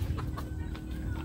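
Farm chickens clucking nearby, several short soft clucks in a quick irregular series over a low steady rumble, with no talking.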